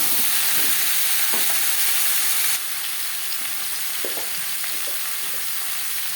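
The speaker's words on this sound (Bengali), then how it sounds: "ফোড়নের সাথে আলু বেশ ভালো করে মিক্স করে দেবো।" Thinly sliced potatoes crackle in hot oil with tempering spices, a dense close sizzle broken by occasional spatula scrapes as they are stirred; the frying hiss drops a little partway through, and no one speaks.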